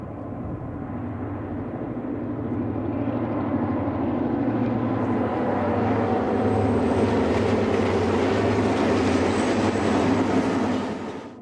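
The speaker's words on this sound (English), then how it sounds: "Next, here's the second section of Train 104." Second section of eastbound passenger Train 104 rolls by with a loud, continuous low rumble and wheel noise that builds over several seconds and stays strong until the end, alone without talk.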